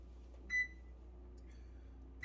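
Kitchen oven control panel beeping while being set to preheat at 375, giving a short, clear electronic beep around half a second in, another faint tone later, and a final beep at the end over a low room hum.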